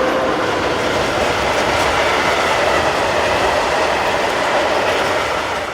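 A mixed freight train on the Tatra Mountain route in Slovakia rolls past close by, with a steady, loud rumble of wheels on rails and no letup throughout.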